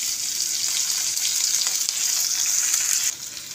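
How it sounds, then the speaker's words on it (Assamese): Sliced onion and a dried red chilli hit hot oil in a pan with a steady, close sizzle that fades slightly near the end. "এইফালে পিঁয়াজ দিলোঁ লগতে দিম এটা শুকান জলকীয়া"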